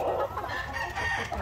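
Upgraded native chickens, a Barred Rock and Oriental Fowl cross, cluck and call from nearby in a short steady burst of overlapping bird sounds, with no talk.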